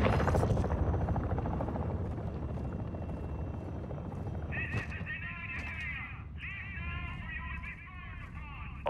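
A heavy chopper from Call of Duty DMZ gives a dense, loud rotor roar across the whole span, joined midway by shrill horse-like whinnying tones; speech is present beneath the din.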